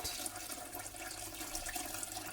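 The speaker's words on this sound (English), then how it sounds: "that is the water from the meat that we filtered before. You just add." Filtered meat broth poured into a pot of rice for fried rice, a faint steady watery pour with no talk.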